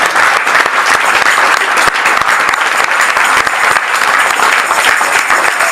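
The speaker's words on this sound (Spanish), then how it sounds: "Denle fuertes palmas al Rey." Loud, continuous applause from a church congregation, many hands clapping vigorously and evenly for several seconds without a break.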